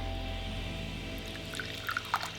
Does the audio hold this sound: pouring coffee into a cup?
yes